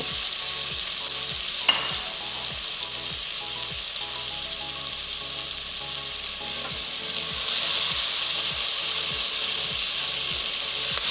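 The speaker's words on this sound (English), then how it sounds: "So you're just gonna allow it to saute for about 2 minutes or so." Ground seasoning sautéing in a pan for steamed Jamaican-style cabbage, a soft steady sizzle with regular faint scraping stirs and a few clinks, quiet and close.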